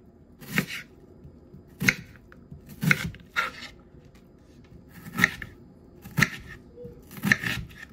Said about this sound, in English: And now we're just going to cut down.